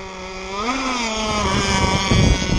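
A model boat engine on a ZippKits Super Sport hull runs close and loud, its high buzzing whine rising steadily in pitch as it revs up and holds, alone without talk.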